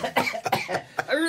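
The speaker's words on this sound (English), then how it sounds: "But first he's gonna cough." A man coughs several times in quick succession, harsh and close, with throat-clearing rasps and a few wheezy tonal catches toward the end.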